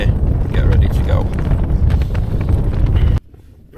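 Strong wind buffeting the microphone on a snow-covered winter mountain at Stybarrow Dodd, a loud continuous roaring rumble with gusty flutter that cuts off abruptly near the end.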